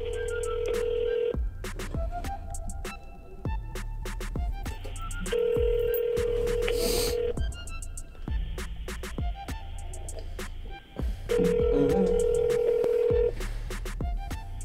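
Telephone call audio with dialing tones, then repeated steady ringback tones in three long bursts separated by pauses, clear and close, with no talking.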